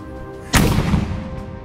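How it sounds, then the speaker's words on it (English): A light 3-pounder cannon fired with gunpowder outdoors, a single loud sharp boom after a short quiet moment, followed by a rolling echo that fades away. "The next commands are the firing commands, so if you don't like loud noises, this is the time you want to cover your ears."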